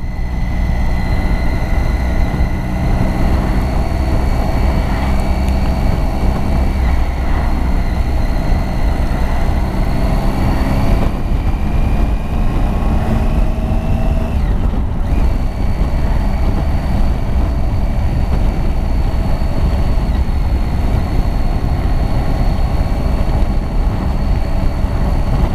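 Motorcycle engine while riding on the road, a loud steady drone with rising pitch that shifts at about 11 and 15 seconds as revs change, alongside constant wind rush and no talk.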